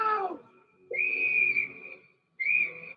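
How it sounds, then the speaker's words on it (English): A ship's whistle from a scene in the film Titanic blows in two sustained, steady high tones, the second shorter, after a brief fading voice-like sound at the start. "The whistle saved her life."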